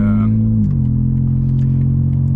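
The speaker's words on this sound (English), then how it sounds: "So that was a cold start" A 2025 BMW M4 Competition with downpipes, an Arms midpipe and a crossover pipe idles after a cold start with the exhaust valves open. The exhaust gives a loud, deep rumble, and its pitch drops slightly early on.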